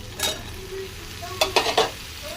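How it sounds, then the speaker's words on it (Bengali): Capsicum is stir-fried with spices in a pan, a soft continuous sizzle punctuated by a few quick, sharp spatula scrapes and clinks. "এবার ক্যাপসিকাম ভালো করে কষিয়ে নেব।"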